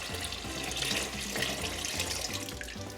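Water pouring into a deep soup pot of chicken broth for Pancit Molo: a steady, close, gurgling stream with a bubbling low rumble, continuous and unbroken, with no talking.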